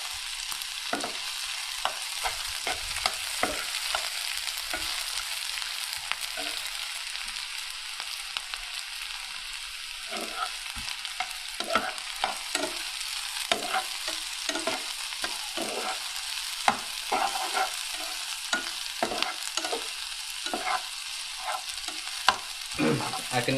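Capsicum and vegetables sizzling and frying in a pan, a steady crackling hiss with repeated stirring scrapes and clatters throughout, close and moderately quiet with no talking.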